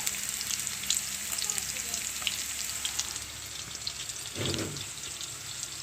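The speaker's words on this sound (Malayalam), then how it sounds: "മീനൊക്കെ മൊരിഞ്ഞു." Fish sizzles as it fries in a pan for a Kerala-style kolan fish fry, a continuous crackling hiss at close range with a brief louder burst of sputtering near the end.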